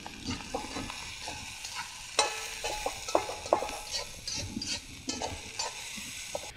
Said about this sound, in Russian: Нам надо просто немножко обжарить.